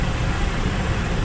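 Road traffic in the Philippines, with motorcycles and four-wheeled vehicles crowding the road, makes a loud, steady roar of engines and tyres close by.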